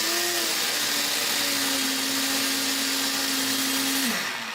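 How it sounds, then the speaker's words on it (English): Electric blender motor running loudly and steadily with a sustained whirring hum, then spinning down abruptly near the end; no talking. "So I pulled the blender sound effects because"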